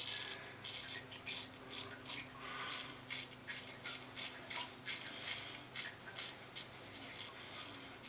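A Merkur safety razor scrapes across a beard in repeated short, rhythmic strokes, with the skin flexed and the blade tugging at the stubble; the rasping passes are close and fairly quiet.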